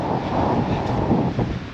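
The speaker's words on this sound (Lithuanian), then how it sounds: "Nu va, krūmai šlama, vėjukas kyla" Southerly wind gusting at a seashore rescue station in Palanga, rustling through bushes as a steady close rush of air and foliage noise over the full stretch, with no talk.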